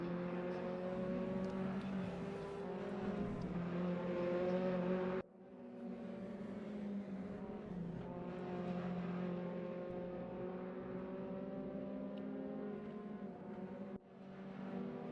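Sim race cars circling the track during qualifying, a continuous layered engine drone with harmonic whine, steady for several seconds, dipping abruptly and then resuming as the sound cuts between cars.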